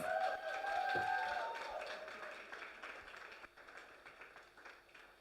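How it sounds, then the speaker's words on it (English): An audience claps in a round of applause at a speaking event, a fairly faint, dense patter of many hands that swells early and then gradually thins out. "can we give her a lusty round of applause?"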